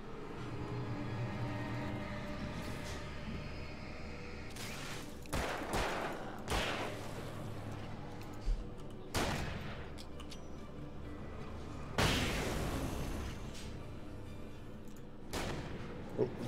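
A gun fired in the video game Alan Wake produces several loud, sharp shots spaced irregularly, each with a booming decay, over a continuous low droning game ambience.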